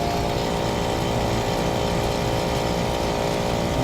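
An overheating Daikin 5TR ceiling-mounted air conditioner's compressor runs noisily, a loud continuous mechanical drone and hum that holds steady without pause.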